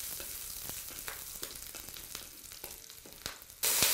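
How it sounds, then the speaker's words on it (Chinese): Ginger and garlic stir-fry in hot oil in a home kitchen: a close, steady crackling sizzle with scattered sharp pops and the scrape of stirring, rising to a louder hiss at the end. "先把姜蒜炒一下"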